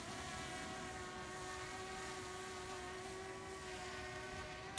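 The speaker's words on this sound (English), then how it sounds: "We see the drone moving to the position in the garden." A drone hovering and flying to a position over a garden, a steady, faint, distant propeller whine with a constant tone throughout, no voices.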